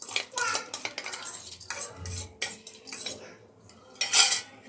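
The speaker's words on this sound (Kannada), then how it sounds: "ಮೊಳಕೆ ಕಟ್ಕೊಂಡಿರೋ ಹುರುಳಿಕಾಳನ್ನ ಒಂದು ಮಿಕ್ಸಿಂಗ್ ಬೌಲಲ್ಲಿ ಹಾಕ್ಕೊತಾ ಇದ್ದೀನಿ" Sprouted horsegram tipped into a metal mixing bowl, a run of light clinks, rattles and scrapes with brief pauses, close and moderately loud, no talk.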